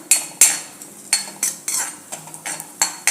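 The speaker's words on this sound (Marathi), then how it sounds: "आपण जे काजू आणि बेदाणे घेतले ते घालूया सॉरी काजू आणि सारुळे घातले ते थोडंसं परतून घ्यायचं आहे" Cashews and raisins being sautéed in a pan for traditional jaggery rice kheer, heard as a series of sharp metal spoon scrapes and clinks against the pan, about ten strokes in an uneven rhythm, close and fairly loud with no talking.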